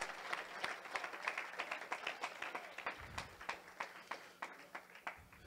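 A church congregation claps during a sermon, the applause distant and fairly faint, with an audible rhythmic beat of individual claps running through it.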